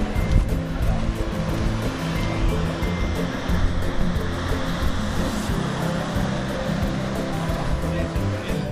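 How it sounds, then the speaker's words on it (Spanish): Broad, steady rushing of surf rolling in continuously at Noosa National Park on the Sunshine Coast, with jet ski engine rumble underneath and faint voices in the background. "Aquí ya están mejores las olas."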